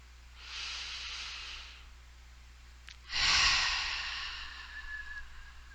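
Slow, deep breathing during a guided meditation: one long soft inhale, a pause, then a stronger, breathy exhale that trails off slowly, close and quiet with no talk.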